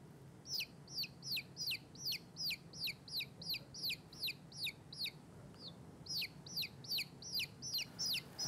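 Chickens cluck and chirp in quick, regularly spaced bursts, fairly near and steady, over a faint low hum with no talking.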